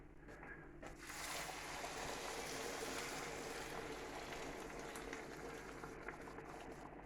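Liquid goes into a pan of rice with a soft pour and splash, then a steady bubbling simmer follows, fairly quiet and close with no talking.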